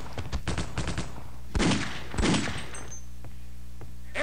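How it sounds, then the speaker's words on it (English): Gunfire from Marines in the Half-Life: Opposing Force video game, a cluster of rapid shots followed by two heavier blasts, then scattered faint single cracks fading into the background. "he's firing down there."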